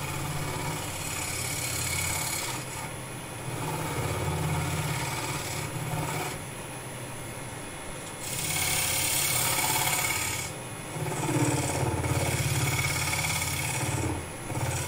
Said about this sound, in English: with me skew, I'm going to just go in and create a little socket and flatten off the bottom